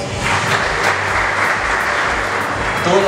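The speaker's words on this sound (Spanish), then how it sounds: "Fuertes los aplausos." Sustained audience applause at a book launch event, a dense steady wash of clapping throughout with a slight swell near the end.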